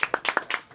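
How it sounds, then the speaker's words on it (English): A few hands clapping for a speaker at a live business event, about six quick distinct claps spread over under a second, fairly near and moderately loud. "Give him a round of applause, y'all."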